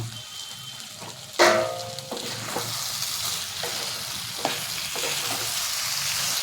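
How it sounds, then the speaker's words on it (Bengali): Ghee and garam masala dropped into a sizzling pan of fish-head muri ghonto, a sharp burst of frying followed by steady loud crackling sizzle with occasional stirring clicks, close and unaccompanied by voices. "এইবার আমি একটু ঘি গরম মশলা দিয়ে 2 মিনিটের মতো চাপা দিয়ে রাখবো"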